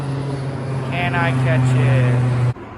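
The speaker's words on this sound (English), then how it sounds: "The airplane, there it is." A steady low drone of an aircraft engine passing overhead, with a person speaking briefly over it before the noise cuts off.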